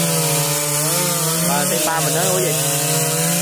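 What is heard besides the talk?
sawing wood from a table tree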